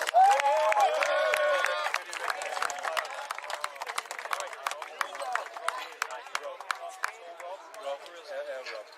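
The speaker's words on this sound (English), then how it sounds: "Give him a round of applause." Crowd applause at the Reclink 2009 grand final football match between Sacred Hearters and Warriors, a steady patter of clapping from an outdoor audience with a cheer and whistle at the start, fading gradually over several seconds.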